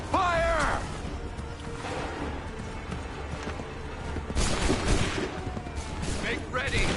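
Musket volleys in Assassin's Creed 3, ragged bursts of many shots cracking together amid battlefield clamour, with shouting voices and a horse whinny early on.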